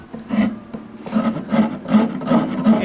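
Iwasaki rasp shaping wood in a workshop, about seven rhythmic strokes in steady succession, each a close, gritty scraping pass.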